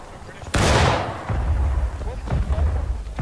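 Gunfire in the American Civil War game War of Rights at Bolivar Heights Camp: a loud volley bursts out near the start, its echo rolling off over a low rumble of battle while voices talk throughout.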